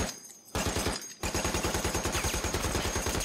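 A machine gun fires in a Pacific War battle scene on Iwo Jima from a TV series, loud rapid rounds in short bursts separated by brief gaps, then a longer sustained stream of fire.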